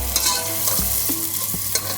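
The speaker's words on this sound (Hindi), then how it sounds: "इसी तेल के अंदर हम डालेंगे अनियन, प्याज जनाब" Chopped onions sizzle in hot oil for palak chicken, a steady close-up fry with soft stirring scrapes of a spoon against the pan.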